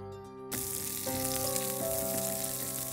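Whole mustard seeds and mint leaves hit hot oil in a pan and burst into a loud, steady sizzle after a brief quiet moment, frying continuously close up with no voices.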